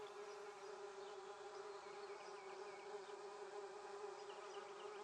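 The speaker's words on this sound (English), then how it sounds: "The bees absolutely love the tomatilla flowers, and that's probably why I have so many." Bees buzzing around tomatillo flowers in a garden, a steady close, continuous drone with wings rising and falling, no voices.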